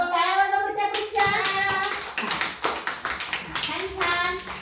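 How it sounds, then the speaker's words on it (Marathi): Children at an anganwadi clap together for a group, a burst of uneven hand claps that settles into a quicker rhythmic run, with an adult voice speaking over the start. "टाळ्या वाजवा त्या ग्रुपच्या"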